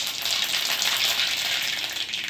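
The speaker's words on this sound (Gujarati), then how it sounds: "હવે હું છે ને વઘાર કરું છું. જ્યાં મેં રાઈ નાખી, અંદર" Mustard seeds crackle in hot oil during a Gujarati tempering, with a bright, continuous spitting sizzle heard close up and with no voices.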